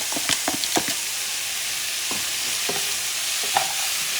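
Shrimp and lentils are stirred in a hot pan over a steady frying sizzle, with a handful of sharp scraping and clinking utensil strokes spaced irregularly, close and fairly quiet.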